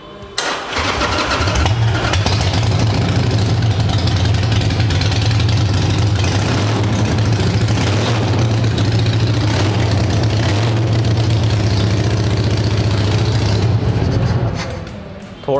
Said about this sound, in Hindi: ये हार्ले का भाई लाउडेस्ट एग्जॉस्ट है, इट्स एन वैंस 9 शॉर्ट।